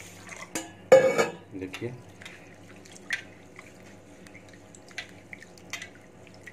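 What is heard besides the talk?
washing rice in a pot with water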